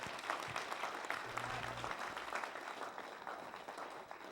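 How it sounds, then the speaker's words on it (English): A crowd applauds at a Les Brown talk at Westlake CSL, producing a dense, continuous wash of clapping that holds at an even level throughout and trails off only slightly at the close. "Give a round of applause."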